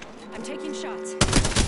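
A short loud burst of gunfire in the Apex Legends video game erupts suddenly near the end, following a moment of game sound and a voice.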